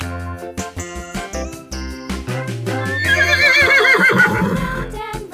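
A horse whinnies loudly and close, a long quavering neigh that rises and falls, following a short run of plucked musical notes in a storytelling sound effect.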